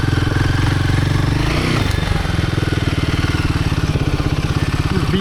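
A Royal Enfield Himalayan 450 motorcycle pounding along sandy Michigan singletrack, its engine loud and close with a steady throbbing, crackling exhaust beat that holds constant throughout.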